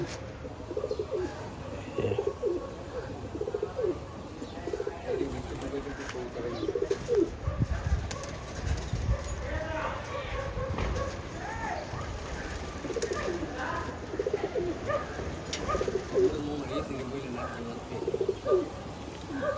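A large flock of domestic pigeons, released together, coos and calls in a dense, continuous chorus close by, with scattered chirps and occasional wing flutters.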